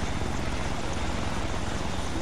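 A helicopter in the video game ArmA 3 roars steadily, a loud continuous rotor and engine wash with dense low thudding filling the whole stretch.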